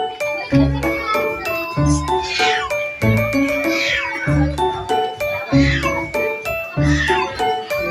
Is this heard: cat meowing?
yes